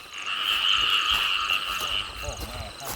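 Many frogs croak in a rain-flooded rice paddy at night, forming a dense, continuous chorus of overlapping trills that stays loud and close throughout.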